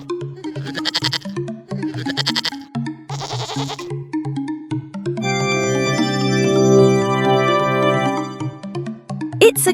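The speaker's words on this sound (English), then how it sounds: "It's a goat." A goat bleats in a few short wavering cries, then lets out one long, loud quavering bleat up close, with no voices present.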